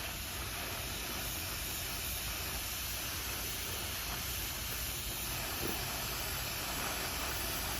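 An airbrush sprays paint onto an HO scale covered hopper car in a garage, giving a continuous, even hiss that stays steady and close for the whole stretch, with no talking.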